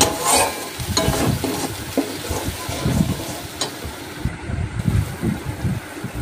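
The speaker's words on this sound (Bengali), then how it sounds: "দিয়ে ওর মধ্যে দিয়ে দেব স্বাদের জন্য লবণ, রঙের জন্য হলুদ গুঁড়ো, দিয়ে ভালো করে মশলাটা কষিয়ে নেব।" Spice paste with salt and turmeric fried in a pan for a fish curry, sizzling close and loud with repeated scraping strokes of a spatula in an uneven rhythm.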